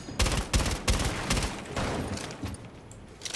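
Gunfire in Rainbow Six Siege, several loud bursts of rapid shots close by in the first second and a half, then thinner scattered shots and softer distant fire trailing off.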